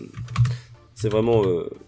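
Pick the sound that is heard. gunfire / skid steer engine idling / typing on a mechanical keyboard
typing on a mechanical keyboard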